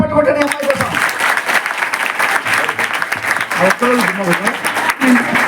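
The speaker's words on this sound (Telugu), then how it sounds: "గట్టిగా చప్పట్లు కొట్టండి అమ్మాయి కోసం." A class of girls at a government junior college in Hyderabad applauds loudly for a fellow student, steady dense clapping filling the room while a voice talks over it.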